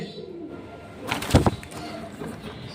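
Blue Shirting pigeons, a pair held for sale at a pet shop, give soft low coos, with a brief louder scuffle of movement near the middle over a steady background hum.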